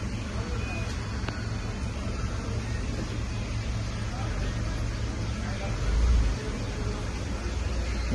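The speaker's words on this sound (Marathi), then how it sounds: "गाडी पेट्रोलवरती स्टार्ट झालेली आहे" A Tata Nexon BS6 with a three-cylinder turbo engine and a Lovato CNG kit runs on petrol, a low, steady idle hum with one brief swell in the rumble, while a voice talks nearby.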